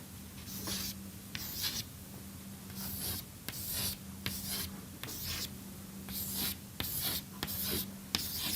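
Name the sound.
drawing a lattice diagram by hand during lecture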